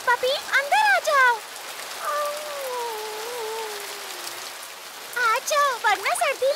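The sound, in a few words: rain falling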